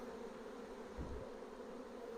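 Honey bee swarm buzzing steadily as a dense, even drone throughout, with a brief low thump near the middle.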